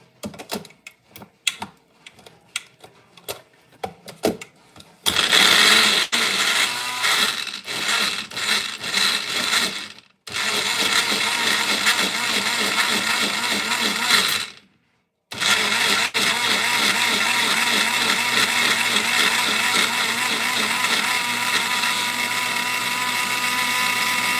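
A blender whirs loudly while blending kabocha squash with pandan for a custard dessert, running continuously in long bursts with two short pauses, after a few seconds of scattered clattering.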